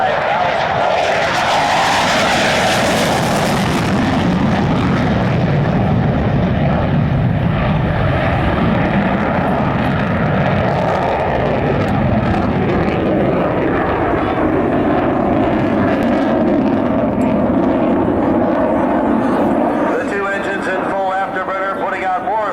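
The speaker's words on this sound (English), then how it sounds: "The F-15 with its twin engines" F-15 twin-engine jet fighter making a pass at a military air show at an Air National Guard base, a loud broad roar that swells early, then a sustained rumbling drone as it moves away, with a voice talking over it.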